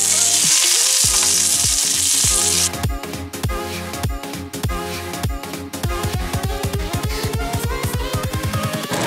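Beef brisket searing in hot oil in a pan, a loud steady sizzle with frequent sharp crackles and pops throughout, no talking.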